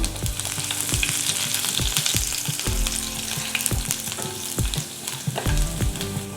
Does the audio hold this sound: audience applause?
no